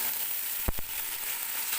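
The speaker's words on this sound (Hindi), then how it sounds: "अब हम इनको थोड़ा सा भून लेंगे" Potatoes and peas hit hot oil with browned onions for a pulao, a brief close sizzle marked by two quick stirring knocks.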